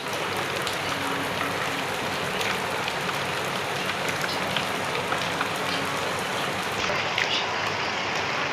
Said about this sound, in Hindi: इतनी बारिश आ रही है कि ठंड लग रही है मेरे